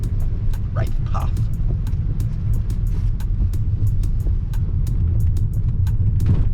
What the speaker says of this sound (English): This car is so smooth.